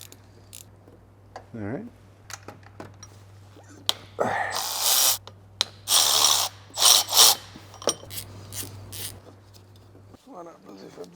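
Ratchet unbolting the pump on a V12 BMW 850CSi, heard as loud bursts of close metallic ratcheting clicks between quieter workshop sounds, with someone talking briefly.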